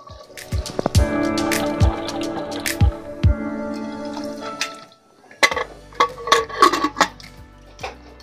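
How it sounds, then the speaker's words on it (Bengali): Water poured into a cooking pot of potatoes seasoned with salt and turmeric, with sharp metallic clinks and drips between steady streams of liquid, close and fairly loud. "এবার পরিমাণ মতো জল দিয়ে দেব।"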